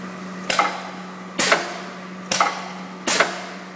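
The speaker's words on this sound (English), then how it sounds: "Okay, that's welded all 4 welds at one time." A multihead welding machine cycles with four guns firing together, giving four loud, evenly spaced weld bursts over a steady low machine hum.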